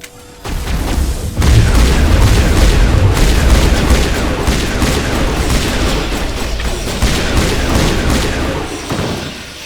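Heavy gunfire and booming explosions in the video game Mass Effect Legendary Edition fill a loud, dense firefight on Noveria against Geth, with rapid overlapping shots and deep thuds over a continuous roar.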